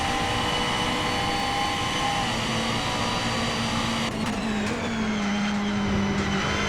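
GT3 race car engines droning in a sim racing game at Watkins Glen, a McLaren 650S GT3 among them, a continuous steady engine whine with a shifting tone partway through, no talk.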